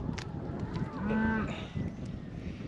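A single low, drawn-out cow moo rises over a steady outdoor background, moderately close.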